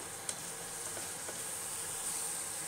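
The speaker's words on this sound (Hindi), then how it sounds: "इन सब मसालों को अब अच्छी तरह से भून लें।" Whole spices and masala sizzling in hot oil in a pan while cooking paneer butter masala, a steady close frying hiss with a small clink near the start, no voices.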